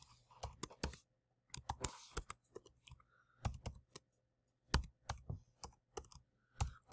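Clicky, close keystrokes on a computer keyboard come in quick bursts separated by short pauses, with a faint steady hum underneath and no talking.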